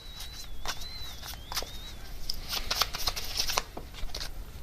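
Tarot cards being shuffled by hand, with soft rapid riffles and flicks at close range repeating in short bursts, and no talking.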